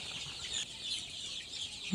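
Young chickens on a poultry farm give soft high peeping clucks, faint and continuous, with a brief thud near the end.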